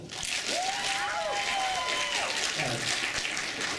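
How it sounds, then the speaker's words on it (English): A crowd claps at a retro gaming expo, a broad continuous wash of applause with a voice talking over it. "Is that how you guys clap?"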